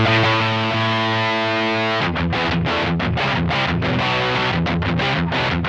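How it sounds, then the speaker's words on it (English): Heavily fuzzed electric guitar through a MayFly Le Habanero boost/fuzz pedal into a saturated amp: a sustained, buzzing chord rings for two seconds, then gives way to choppy, rhythmic palm-muted riffing with sharp gaps, loud and dense with no talking. "You can play metal with this fuzz."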